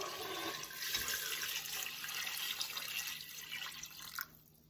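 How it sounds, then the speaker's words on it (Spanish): Water is poured from a container into a pot over chicken, producing a soft continuous splashing and trickling that ends abruptly near the close, fairly quiet and without talk. "Voy a agregarle también agua, nada más a que tape el pollo."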